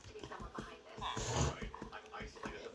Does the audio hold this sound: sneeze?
no